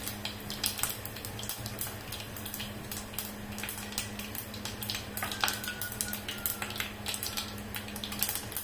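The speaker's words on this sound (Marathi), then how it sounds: "मोहरी अशी छान फुलली की जिरे टाकायचं. दोन तेजपत्ता आहे ते टाकून घ्यायचं." Cumin seeds and two bay leaves crackle in hot oil with popped mustard seeds, a steady close sizzle with scattered sharp spits and pops and no talk.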